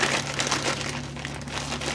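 Cardboard counters from a board wargame are shuffled by hand on a table, a continuous dry rustling and crinkling, close and busy, with no talk.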